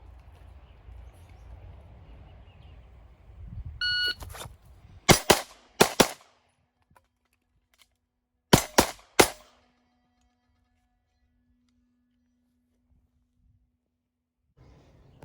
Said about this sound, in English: it's actually 4 rounds and then a reload and 3 rounds